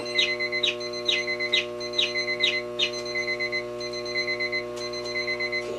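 Many alarm clocks go off at once indoors, overlapping beeping patterns and sustained electronic tones pulsing rhythmically, close and fairly loud, with no talking.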